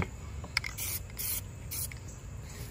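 Spray paint can coating aftermarket wheel rims for a third-generation 4Runner: short hissing bursts of spray, a few longer sweeps between quick taps, close and moderately quiet over faint background noise.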